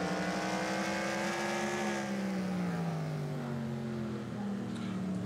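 Onboard car 48 lapping Martinsville, a loud continuous engine drone with a pitch that slowly falls and rises through the turns, dominating throughout with no break.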